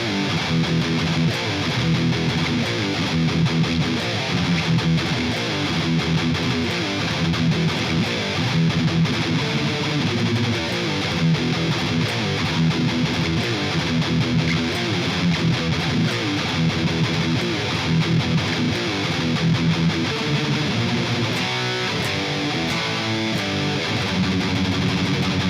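Dense, continuous heavy metal riff on electric guitar, a fast, driving chugging pattern held at steady loudness throughout with no voices.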